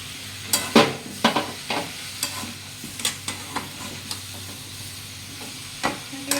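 Chicken being stirred in a frying pan for a stew: a soft sizzle under a series of sharp, irregular scrapes and clinks of the spatula, close up.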